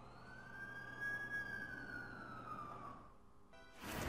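An ambulance siren in the game The Amazing Spider-Man 2 wails in a long rising and falling tone over steady traffic rumble, then cuts off near the end as a burst of broadband noise swells up.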